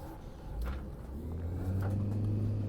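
A car engine in the video game Taxi Life revs with the handbrake still on, a low steady drone that rises slightly and holds, fairly quiet.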